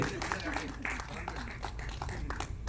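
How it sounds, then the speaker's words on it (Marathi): An audience at a film trailer launch and journalists' day honoring event applauds an honoree with steady, dense clapping that spreads through the hall, mixed with a murmur of voices. "एकदा जोरदार टाळ्या सरांसाठी झाल्या पाहिजे"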